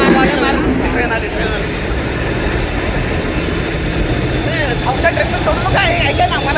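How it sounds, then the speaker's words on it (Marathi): A local train pulls in during a Marathi folk stage play, loud and continuous with rumbling wheels, clattering cars and high squealing brakes, with voices faintly mixed under the din. "ट्रेन आली"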